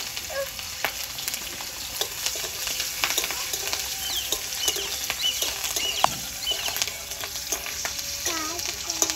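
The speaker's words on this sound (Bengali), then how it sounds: "তেল গরম হয়ে গেছে, জিরে ফোড়ন দিয়ে দেবো।" Cumin seeds tempering in hot oil for a fish and potato curry, a steady crackling sizzle with scattered sharp pops and occasional stirring clinks, close and continuous throughout.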